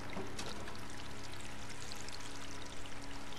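Water flowing steadily in the video game Stray, a continuous broadband rushing and pouring that fills the whole stretch at an even level, with no voices.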